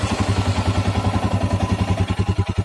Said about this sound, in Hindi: अगर मैं बाइक को स्टार्ट करूँ